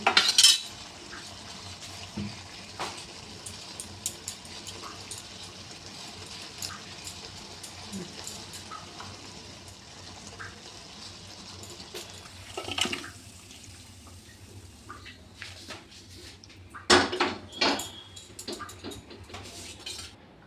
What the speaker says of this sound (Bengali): এখন আমি ঢেলে নেব